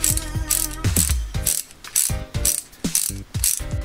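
Sharp, rapid ratcheting clicks from a ratchet handle fitted with an adapter and socket, heard close up in repeated short bursts with brief pauses between, no voices.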